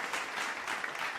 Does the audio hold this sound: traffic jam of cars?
no